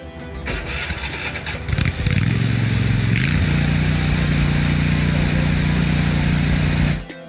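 A Toro Titan MAX zero-turn mower's engine cranks and starts, then settles into a loud, steady low exhaust drone that runs close and uninterrupted before cutting off near the end.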